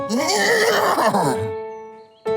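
Horse neighing, a loud, close whinny with a wavering, descending pitch lasting about a second and a half, followed by a held tone and a short sharp burst at the end.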